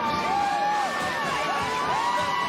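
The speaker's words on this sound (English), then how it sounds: "It's the Georgia fans making noise now." Georgia Bulldogs fans fill a stadium at the 2019 Sugar Bowl against Baylor with loud, sustained crowd cheering, rising whoops and whistles sweeping over the steady roar.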